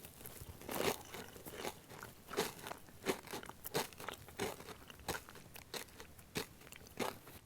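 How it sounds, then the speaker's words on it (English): Repeated crisp crunches from biting and chewing a crunchy snack, sharp bursts spaced roughly every half second, close and fairly loud with no talking. "The crunching sound is nice."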